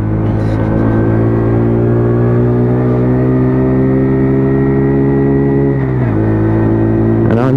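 A WK Colt car engine drives along steadily in third gear after a downshift, a loud and constant mid-pitched drone with a brief dip in revs near the end.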